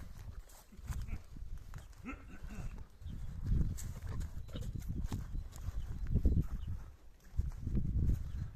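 Lively horses at a horse sale moving and snorting nearby, with irregular hoof clops and shuffling, while people talk over them outdoors.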